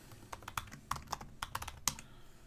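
A password is typed on a computer keyboard as a quick run of about a dozen soft, close key taps at an uneven rhythm, the last tap sharper, followed by near silence with no talk.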